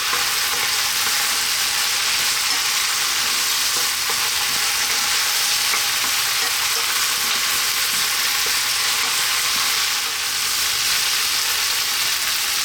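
Eggplant sizzling steadily in a hot pan for a vegetable curry, a continuous loud fry hiss with occasional stirring scrapes, no talking.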